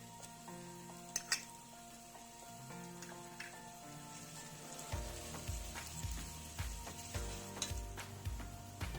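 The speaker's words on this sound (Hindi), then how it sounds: "अदरक को भूनेंगे अच्छी तरह। लहसुन का पेस्ट शामिल कर देंगे।" Ginger and garlic paste frying in a pan, a steady soft sizzle that swells louder partway through, with occasional clinks of a utensil stirring.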